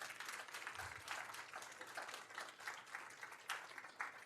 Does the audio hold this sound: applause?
yes